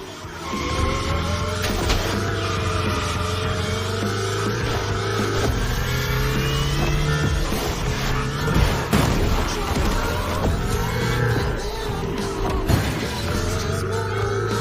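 A car in The Crew Motorfest rides along a wall with a sustained engine drone, tire noise and scraping, a sharp impact near the middle, and a music-like backdrop throughout.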